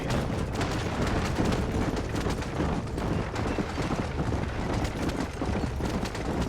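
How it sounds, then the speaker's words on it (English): Horse hooves clip-clop steadily in the Red Dead Redemption video game, a dense continuous rhythm of hoofbeats with rumbling game noise beneath. "Get out of the way, horse."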